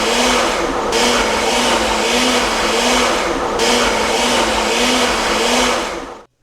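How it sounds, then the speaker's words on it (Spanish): A blender grinding red mole sauce runs loud and steady close up, its motor grinding continuously with a brief dip and change in pitch midway before cutting off at the end. "No forcemos la licuadora"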